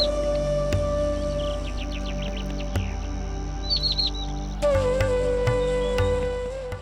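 A yellow-bellied prinia calls in grassland and low shrubs, giving quick thin chirps and short trills over a steady hum of insects, with a few soft knocks in the background.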